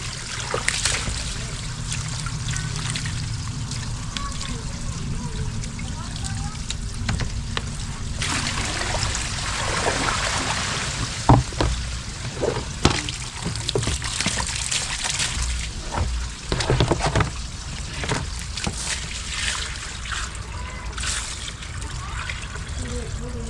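Tap water runs and trickles steadily while dirt is rinsed off goat meat, with splashes and clatter from handling, and a person talks over the flow at times.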